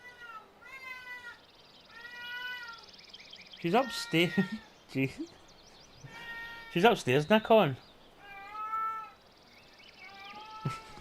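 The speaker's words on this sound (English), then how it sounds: "That's my cat." A house cat meows repeatedly indoors, with short rising-and-falling calls in bursts at the start and again near the end, while a person talks in between.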